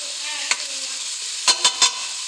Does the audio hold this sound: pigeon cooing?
no